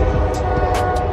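A train rumbling past close by at night, a steady low roar and rattle of rail wagons with brief higher squeals on top, continuous and fairly loud.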